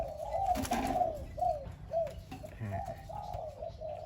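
A dove coos repeatedly nearby, soft rounded calls in a steady rhythm, with faint other noises in the background.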